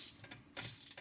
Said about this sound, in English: We're gonna take a couple of rounds to start forming the metal.